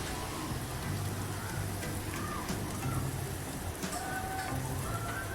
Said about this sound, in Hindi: दरमियानी आंच पे इसको तलेंगे।